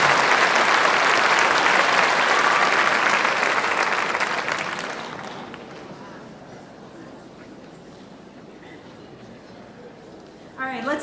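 Audience applause at a school honors night ceremony, loud and sustained for about five seconds before fading to quieter scattered clapping, with a voice starting briefly at the end.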